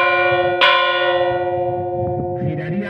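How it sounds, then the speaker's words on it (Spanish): A church bell in Trébago, Soria, swinging fully round in volteo ringing, gives a loud bright strike near the start and softer follow-up strokes over long ringing overtones. "cuando la campana gira totalmente, lo que hace es un volteo, entonces da dos golpes de la siguiente forma"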